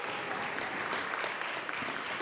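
Applause fills the Colorado House of Representatives chamber, steady and dense throughout with no clear pauses, broad clapping from a sizeable audience heard at moderate distance.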